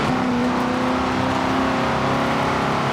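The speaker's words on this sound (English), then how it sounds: "But the engine do sound nice" A 2005 MG XPower SV-R engine in Forza Horizon 5 drones loudly and steadily, holding a sustained revving note throughout with no voices.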